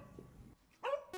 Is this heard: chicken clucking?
no